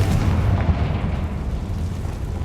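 The Confringo fire spell from the Hogwarts Legacy video game bursts in a loud, deep, rumbling explosion that starts at full force and stays dense and roaring for the whole stretch. No speech is heard.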